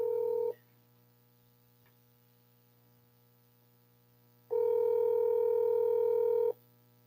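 Telephone ringback tone during an outgoing call, a steady electronic tone sounding briefly, then a long silent gap, then a second two-second burst, close and clean over a faint hum.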